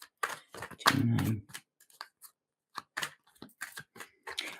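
Tarot cards are shuffled by hand in a series of short, crisp rustles and snaps, with one longer riffle near the start and scattered quick flicks after, close and fairly quiet.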